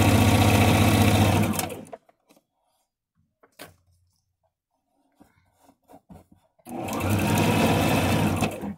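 A sewing machine stitches a seam on fabric, a loud, close, steady mechanical whirr that runs for about two seconds, stops through a quiet gap with small handling clicks, then starts again.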